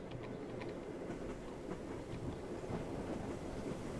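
A train in the Train Travel Sim video game rolls steadily along the rails, giving a continuous dense rumble with faint rhythmic clatter and airy noise, no voices.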